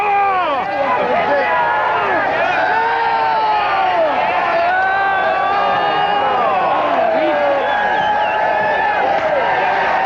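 A rowdy, packed crowd cheers, whoops and shouts continuously as another vehicle is rolled into a pond, with many overlapping voices forming a loud, close, unbroken din.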